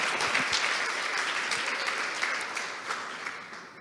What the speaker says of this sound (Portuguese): Pode aplaudir, eu sei.